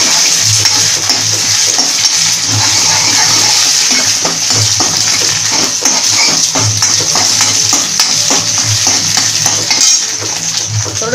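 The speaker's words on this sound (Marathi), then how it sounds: "तेल तापले, हे अंडा असं सोडून द्यायचं तेलात" An egg fries in hot oil in a pan with a loud, close, steady sizzle, broken by a run of quick clinks and scrapes from stirring.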